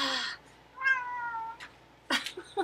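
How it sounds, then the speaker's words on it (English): A cat meows for treats indoors, giving several clear, close, drawn-out meows separated by short pauses, with a couple of quicker, rougher calls near the end. "There's three cats here"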